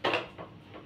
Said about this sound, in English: So let me put my pot on fire.